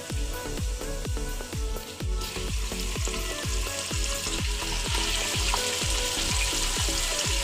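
Minced meat sizzles and crackles in a pan with masala, coarsely crushed chillies and ready-made browned onions, a loud, steady fry close by, with regular stirring scrapes and no talking.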